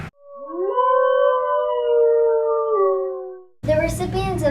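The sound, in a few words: wolf howl sound effect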